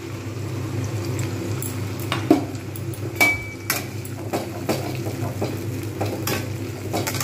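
Ground mustard paste thinned with a little water frying in a pan for doi shorshe bhetki, with a continuous sizzle and repeated clinks and scrapes of a spoon against the metal, close and clear.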